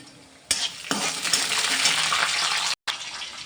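Mustard seeds, cumin, chana dal and urad dal hitting hot oil for tempering, a sudden loud hiss that swells into a steady crackling sizzle, cut off for a moment just before the end.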